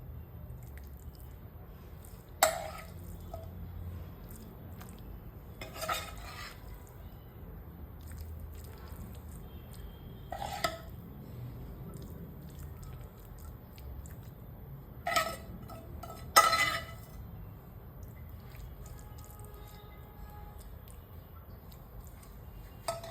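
Cooked seaweed methi bhaji scraped from a pan onto a plate, heard as a few soft, scattered squishy scrapes and taps over a quiet background.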